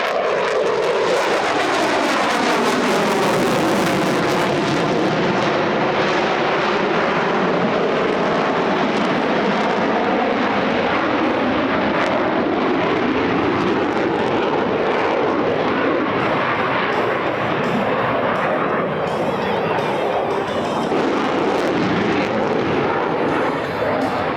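Military jets fly in at the Oregon International Airshow in McMinnville, a loud continuous engine roar whose pitch sweeps as the aircraft approach and pass, with a voice faintly underneath.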